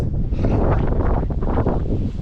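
Cold wind gusts steadily across the microphone in the Patagonian lamb-raising region near the Strait of Magellan, a loud continuous roar and buffeting with no voices.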